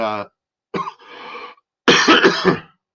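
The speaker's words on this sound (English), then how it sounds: "just a little cough." Several bursts of coughing with short pauses between them, close and fairly loud, after a brief vocal sound at the start.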